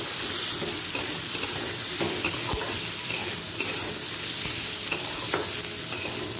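Chopped onion and potato fry in a pan with a loud, continuous sizzle and crackle, broken by occasional scraping stirs, with no voices.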